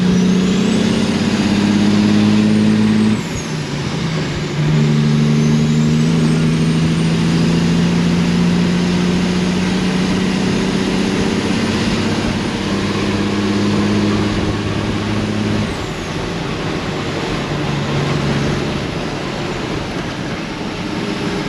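A truck engine without a trailer idles and revs on a farm road, a loud steady rumble with shifting low tones and a brief dip in the middle, no voices.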